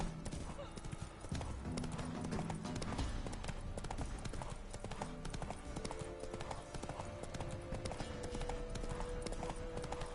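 Roach, Geralt's horse in The Witcher 3, gallops in a rapid, driving clip-clop of hooves that continues throughout, loud and close, with faint game ambience and a brief voice underneath.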